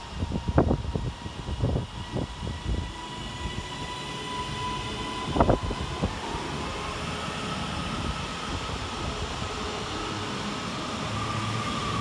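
Northern electric train unit 331001 at Wilmslow railway station, a steady rumble of the train nearby with a few sharp clanks early on and a rising whine as it moves off.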